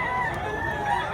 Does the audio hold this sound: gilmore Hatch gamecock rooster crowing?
yes